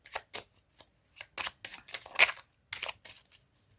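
A small deck of angel oracle cards is shuffled by hand in short papery bursts, close and quiet, with brief pauses between the riffles and no talking.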